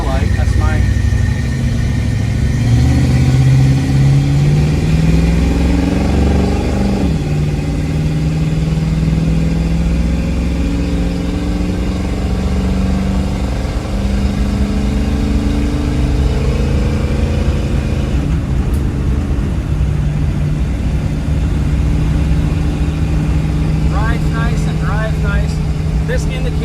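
A 1972 Chevrolet K5 Blazer truck's engine revs and pulls away, rising through the gears with a steady, loud mid-range drone that shifts pitch several times, and someone talks over it.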